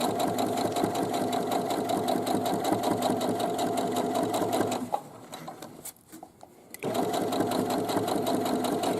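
Close, steady whir and rattle of a sewing machine sewing the side seams of a fabric boomerang bag, stopping briefly in the middle before starting up again.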